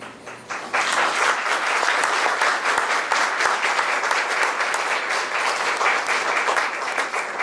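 Sustained audience applause fills the hall at the close of an academic talk, loud and even throughout with no voices over it.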